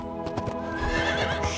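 A horse in the LEGO Lord of the Rings video game lets out a loud, close whinny, joined by a quick run of clopping hoofbeats.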